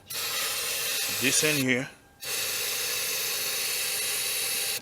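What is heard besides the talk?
aerosol spraying into 2013 Kia Forte engine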